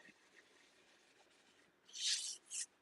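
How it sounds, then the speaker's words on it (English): A cloth buffs wax into a painted wooden drawer, giving a faint scratchy rubbing that ends in two short, louder swipes heard close by, with no talking. "So I'm kind of buffing that wax into the paint."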